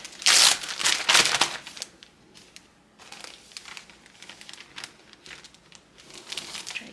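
A paper towel holding seeds is tilted into a plastic bag, giving loud, close crinkling and rustling bursts at first, then softer intermittent crackles of plastic and paper handling.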